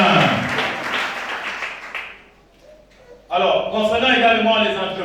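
A church congregation applauds and cheers in a dense, loud burst, fades briefly, then surges again with voices mixed into the clapping.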